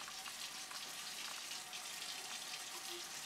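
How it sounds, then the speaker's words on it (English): Running water rinses Berkey ceramic water filter elements under a tap, a steady close hiss of flow with faint splashing throughout. "we just kind of clean these really good, give them a nice rinse"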